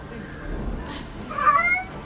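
A cat meows in the video game 1666 Amsterdam, one drawn-out mid-pitched mew standing out over a soft low background murmur.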